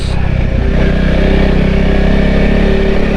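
A motorcycle engine held in second gear while touring on a forest track in Baluran, with a loud, steady droning rumble that stays close and continuous throughout at an even throttle.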